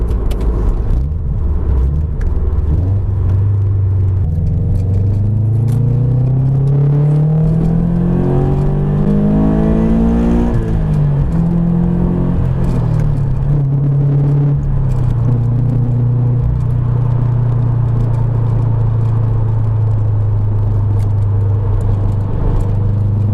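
A Subaru fitted with a Gruppe S unequal-length header and Invidia N1 exhaust cruises at about 40 mph in sixth gear. A steady low rumble swells briefly as the engine pulls, then settles back into an even drone, with no talking.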